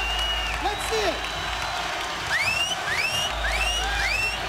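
A crowd at a skateboarding event applauds and cheers continuously under an energetic announcer's voice, with swooping whistles cutting through the roar.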